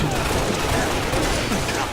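Video game gunfire, a dense and steady barrage of shots packed tightly together with no clear gaps, loud and continuous over a short stretch.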